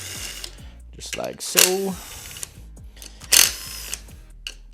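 Bolts are backed out of a dirt bike's clutch cover with a ratchet, giving short mechanical clicking and brief whirring bursts close by, while a voice talks over the work.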